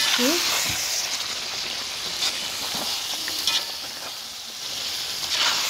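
Vegetables sizzle and fry in a pan, a steady close hiss throughout with occasional brief stirring scrapes and faint bursts of voice in the background.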